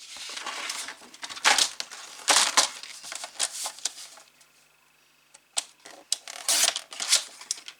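Card paper is cut with several sharp, crunchy snips and scrapes, close by, in irregular bursts with a quiet gap in the middle.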